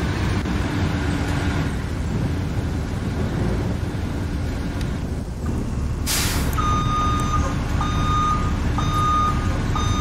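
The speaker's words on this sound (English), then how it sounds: "Back up, you freaking bus." A bus backs up, its reversing alarm sounding as a steady run of evenly spaced beeps that starts partway through, over loud, continuous engine rumble and traffic noise.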